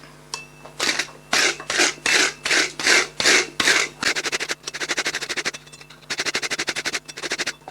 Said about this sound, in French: maintenant on va passer un bon coup de brosse